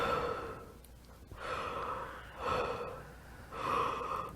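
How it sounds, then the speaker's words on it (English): Deep, deliberate breathing during a rebirthing session, three long breath cycles close to the microphone with slow, audible inhales and exhales in a steady rhythm. "I'm consciously working on this breathing."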